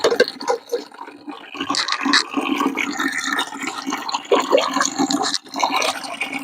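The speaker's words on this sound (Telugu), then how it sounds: "ఇది ఇప్పుడు వాటర్లో కలిపి పోద్దాం" Homemade liquid fertilizer, one ladle to five litres, is poured and mixed into water for dragon fruit plants, giving a loud, close sloshing and splashing that keeps going for several seconds.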